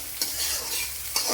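Cumin seeds dropped into a hot pan for Kerala-style idli upma, a quiet sizzle broken by two sharp stirring scrapes near the start and end.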